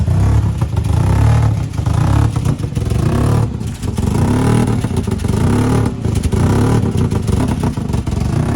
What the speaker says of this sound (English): You hear that big cam? Oh, it's supercharged. It's got like a supercharger surge.